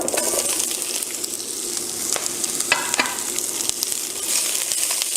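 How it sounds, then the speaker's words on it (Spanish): Vegetables sautéing in hot oil in a pan for ramen, a steady close sizzle with occasional stirring scrapes and light clinks throughout. "ponemos otro poquito de aceite y vamos a agregar las verduras"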